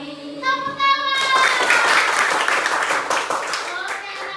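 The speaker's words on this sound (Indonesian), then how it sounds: "Tepuk tangan." A teacher's voice calls out briefly, then a sixth-grade class of children claps hands together, a dense, lively patter lasting a few seconds.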